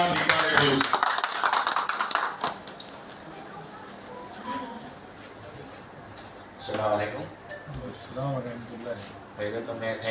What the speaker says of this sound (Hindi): आपकी भरपूर तालियों में मोहतरम जनाब इकबाल एडवानी